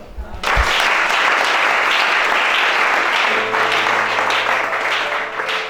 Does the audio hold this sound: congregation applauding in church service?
yes